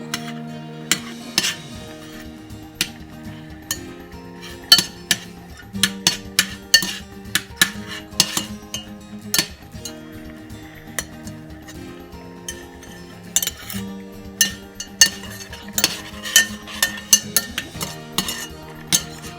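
Spoon stirring masala chai in a metal pot, with repeated clinks and scrapes against the sides, irregular and close, mixed with a low bubbling or simmering hum and no talking.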